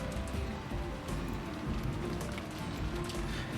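Steady rainfall in a visual novel scene at night, a dense, even patter of drops on surfaces that holds at constant loudness throughout, with no voices.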